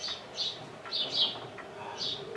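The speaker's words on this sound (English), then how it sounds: "It's just a bird." A bird sings in short, bright chirping phrases, several separate calls repeating over a few seconds at moderate distance against quiet background hiss, with no talking.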